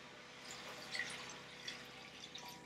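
Water poured from a bowl into a pot while cooking Japanese curry, a faint trickling with a few soft drips and splashes, close and quiet with no talking.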